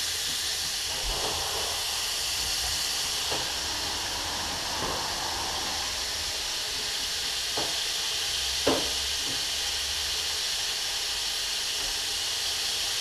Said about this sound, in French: Notre viande caramélise bien tranquillement, elle rend pas trop de jus.